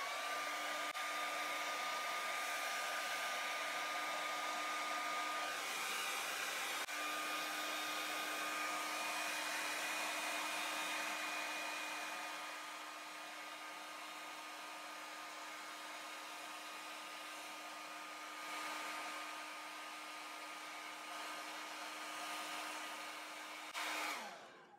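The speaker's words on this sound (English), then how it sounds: "It's a hairdryer. You've heard of hairdryers before." A hair dryer blows continuously for about twenty-five seconds, a steady whining roar with a constant tonal hum, slightly quieter in the second half before cutting off at the end.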